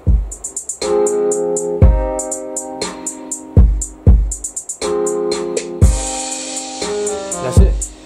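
Programmed drum sequence with cymbal hits from an Akai MPC Live: low kick thumps repeat in a steady pattern alongside bright high cymbal taps, looping over a sustained tonal backing, loud and without any talking.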